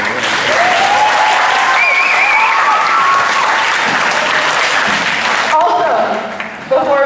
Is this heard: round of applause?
yes